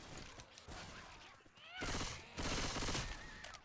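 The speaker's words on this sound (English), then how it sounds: "Why are you shooting me?" Video game gunfire crackles in rapid bursts, with sharp repeated shots and two loud sustained volleys of automatic fire in the second half, mixed with softer game sounds.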